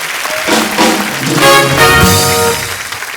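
Studio audience applause on a comedy talk show, a full, steady wash of clapping with musical tones and cheering mixed in, sustained loud throughout before easing slightly at the end.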